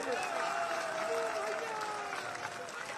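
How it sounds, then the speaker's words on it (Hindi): A crowd applauds continuously, a dense clatter of clapping with a voice ringing out faintly over it. "उनके लिए जोरदार तालियों से स्वागत करिए।"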